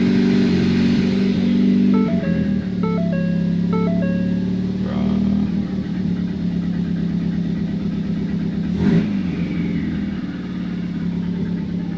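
An old drag race car bought on a tight budget, run on a full tank of gas, its engine droning loud and steady close by with a brief tonal chiming pattern early on and a voice speaking over it.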